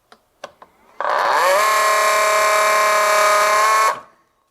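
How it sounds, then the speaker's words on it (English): A few clicks, then a 12-volt macerator pump starts up and runs with a loud, steady whining hum for about three seconds before it winds down and stops. "Let's try this macerator pump."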